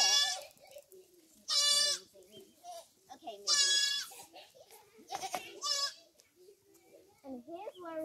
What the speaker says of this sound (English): And here's where all the goats are.